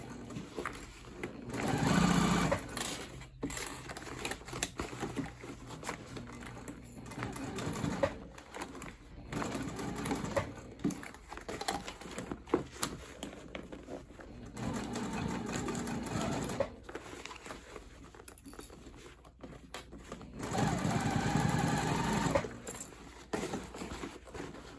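A sewing machine sews the top seam of a crossbody bag at a quarter-inch seam allowance, running in several bursts of varying length with brief pauses between, fairly close but moderate in level.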